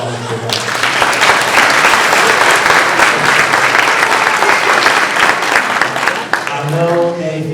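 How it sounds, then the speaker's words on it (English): Conference audience at a D.C. family conference delivering a loud, sustained round of applause, thick steady clapping that fades near the end as a speaker's voice returns. "So give yourself all a round of applause for that."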